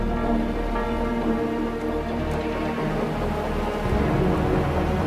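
Steady heavy rain with deep rolling thunder rumbling underneath in the video game Wuthering Waves, a dense continuous wash of sound that swells slightly near the end.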